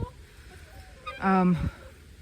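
Backyard chickens, including a Barred Rock, and a guinea fowl give one loud honking squawk, near and brief, over a low background hum.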